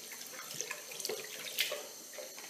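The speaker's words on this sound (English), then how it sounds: "So now I'm rinsing my hands. And I'm rinsing the scrub off." Hands are rinsed under a running tap to wash off a face scrub: a soft, steady trickle of water with small splashes and drips, fairly quiet and close, and no talking.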